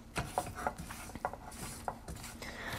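A spatula works through raspberries with sugar and brandy in a pan, giving soft repeated scraping and clicking strokes in an uneven rhythm, close and quiet, with no voices.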